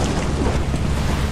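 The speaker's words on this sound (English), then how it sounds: "Oh, it's raining." Rain falls steadily in the video game Lethal Company, a dense, even hiss with a low rumbling undertone, close and continuous through a very short stretch.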